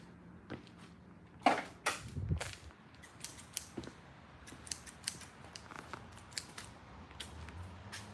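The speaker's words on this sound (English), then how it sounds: "I'm going to grab a pair of scissors." Scissors snipping and crinkling through plastic close up, with sharp clicks and rustles repeating irregularly over low background noise.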